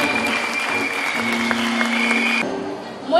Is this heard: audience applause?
yes